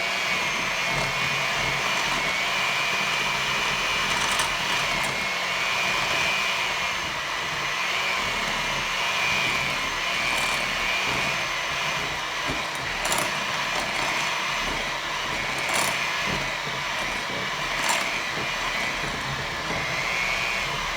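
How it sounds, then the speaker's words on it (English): Electric mixer whipping a coconut oil hand scrub, a steady loud motor whir running without a break throughout, with faint clicks from the beaters against the bowl. "So I'm going to use my mixer here."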